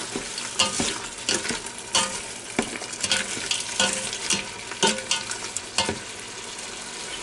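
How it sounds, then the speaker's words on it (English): Browning meat stirred in a Ninja Foodi Deluxe pot for a one-pot spaghetti, with steady sizzling and frying under repeated scraping and clacking strokes of a utensil against the pot, loud and close, with no voices. "Now, mix all these up real good."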